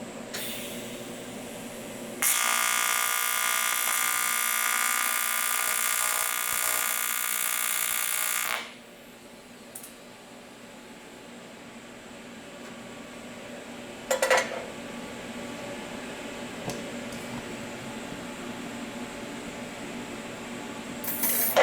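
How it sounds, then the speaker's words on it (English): An aluminum TIG tack weld gives a loud, steady buzzing hiss that lasts several seconds and then cuts off, followed by quieter handling noise and a brief sharp clink. "Put a tack on the inside since I can access it."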